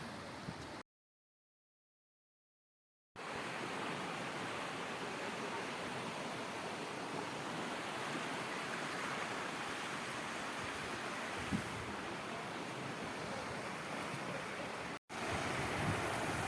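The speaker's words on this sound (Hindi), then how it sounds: "नमल गॉर्ज में बहुत अच्छी मिकदार में पानी बह रहा है" Water rushing steadily through Namal Gorge in the Salt Range of Pakistan, a continuous broadband roar that fills the scene, briefly cut by a short gap and a second dropout near the end.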